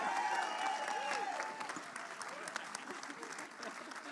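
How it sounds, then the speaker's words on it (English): Crowd applause at a documentary premiere for Yungblud's 'Are You Ready, Boy?', a moderate wash of clapping that starts fuller and eases slightly, mixed with voices and cheering in the hall. "let us definitely keep that applause going for the incredible director, Mr. Paul Dugdale, ladies and gentlemen."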